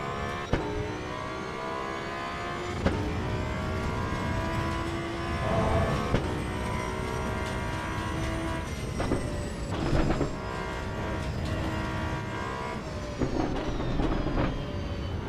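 Racing car engine in the Assetto Corsa EVO sim at the Nürburgring, a sustained high-revving drone that rises and dips with gear changes and throttle, loud and continuous throughout with no talking.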